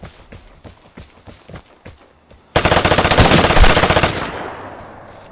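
Gunfire in the Vigor video game: a quiet series of footstep-like taps, then an abrupt loud stretch of rapid automatic fire, shots in fast regular succession for about a second and a half before fading into a decaying echo.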